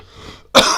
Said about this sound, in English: Obviously you just have to excuse the cough.